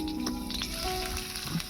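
Chopped onion hits hot white oil in a pan, giving a close, steady sizzle and frying hiss that continues without pause, with no talking.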